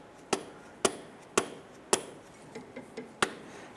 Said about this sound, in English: I'm going to use a mallet, a rubber mallet, and I'm going to strike the end of the CV axle